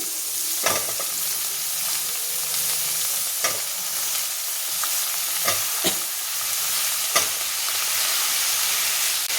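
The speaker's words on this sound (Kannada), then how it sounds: "ಬದನೆಕಾಯಿನ ಹಾಕ್ಕೊಂಡಾದ್ಮೇಲೆ ಸ್ವಲ್ಪ ಫ್ರೈ ಮಾಡ್ಕೊಳ್ಳಿ." Thick chunks of cut eggplant fry in a hot pan with a steady sizzle, punctuated by several sharp scrapes and clacks of a stirring spoon against the pan, close and with no voices.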